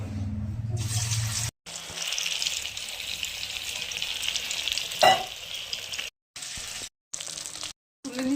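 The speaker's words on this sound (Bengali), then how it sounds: "অল্প অল্প করে ভেজে তুলে নিচ্ছি কোপ্তাগুলো" Steady hissing sizzle of flattened potato-cauliflower koftas frying in hot oil, continuous and fairly loud, broken by a few brief pauses and a clink of utensils.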